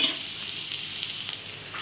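Onions frying in a pan for a prawn and brinjal dish, a steady close sizzle with soft crackles and faint stirring scrapes, no talking.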